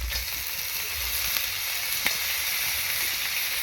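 Chopped tomatoes and ginger fry in a pot over a wood fire for chicken kosha, giving a loud, constant close sizzle with faint stirring scrapes beneath it.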